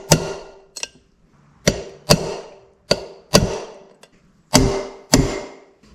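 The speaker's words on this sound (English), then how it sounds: "I'm just going to take a punch or a chisel or whatever and give it a little tap" Hammer tapping a punch or chisel against a wheel bearing on a 1960 GMC 305 V6 truck, a series of sharp, close metallic strikes, some in quick pairs, with ringing decay between blows.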